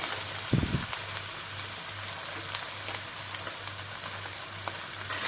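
Meat frying in olive oil in a pan, a steady broadband sizzle with crackling spatters, plus a brief louder burst near the start and a low pulsing hum underneath.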